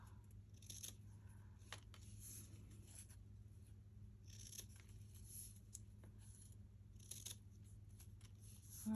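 Scissors snip repeatedly through file folder cardstock, cutting pieces for a junk journal; a steady run of crisp cuts with short pauses under a low constant hum.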